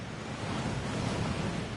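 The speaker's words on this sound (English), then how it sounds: "That waterfall washes away all enchantments. It's a security measure." The Thief's Downfall waterfall at Gringotts in a video game rushes as a dense, steady roar of falling water, loud and continuous with no voices.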